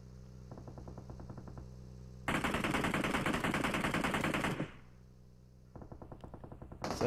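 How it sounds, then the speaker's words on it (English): Automatic gunfire in a battle royale video game: bursts of rapid, evenly spaced shots, one long loud stretch in the middle between quieter bursts, with no talking. "Lots of shots coming out from Real Primate onto Bob"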